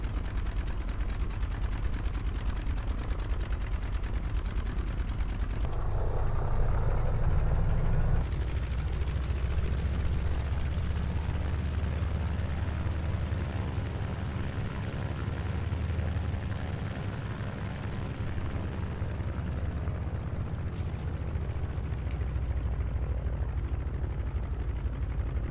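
A twin-engine Beechcraft Model 18 taxiing in Microsoft Flight Simulator, with a steady, loud engine drone and rumble that shifts in pitch partway through and continues without a break.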